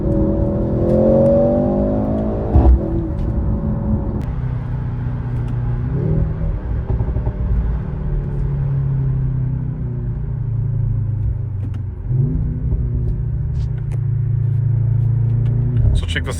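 A Mercedes-Benz C63s E-Performance accelerates under boost, its engine note climbing steadily in loud, continuous rumbling revs with a couple of gear-change dips, heard close from inside the car.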